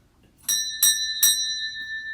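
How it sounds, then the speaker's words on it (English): A clear bell rings three times in quick succession, each bright strike leaving a sustained metallic tone that hangs and fades. "let's ring the bell for the nurses"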